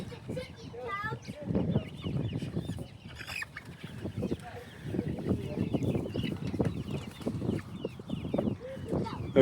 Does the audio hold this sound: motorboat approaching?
no